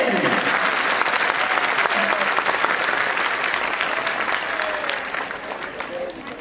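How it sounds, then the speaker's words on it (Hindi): Audience at a religious discourse clapping, a dense sustained applause from many hands at close range that slowly fades in the final seconds. "हाँ, ताली बजाएंगे तो उसमें सर्दी कम होगी"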